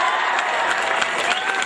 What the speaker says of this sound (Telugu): మీరు తప్పకుండా చప్పట్లు కొట్టాలి